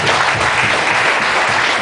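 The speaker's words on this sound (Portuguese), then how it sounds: "Aplauda o Senhor Jesus." A church congregation applauding during a worship service, dense steady clapping at full volume throughout the brief moment.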